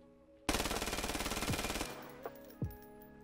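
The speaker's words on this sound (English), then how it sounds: "The Uzi is very effective at close range due to its fast fire rate" Rapid burst of Uzi submachine gun fire in the VR shooter Vail VR, a fast, loud stream of shots lasting over a second, followed by a couple of isolated clicks and thumps.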